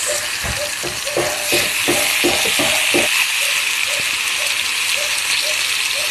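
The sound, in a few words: marinated chicken added to pan for chicken adobo, frying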